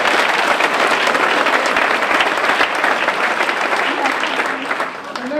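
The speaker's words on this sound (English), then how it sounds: "Give yourselves a round of applause." A large audience in South Africa claps and applauds after a motivational speaker's call, a dense, loud, continuous roar of hands that holds steady for several seconds before easing slightly.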